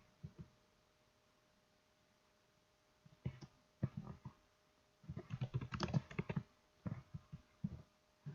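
Soft keystrokes on a computer keyboard as a file name is typed into a PowerShell terminal, quiet and close, coming in short irregular bursts after a few seconds of near silence.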